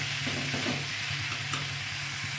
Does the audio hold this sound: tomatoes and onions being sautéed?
yes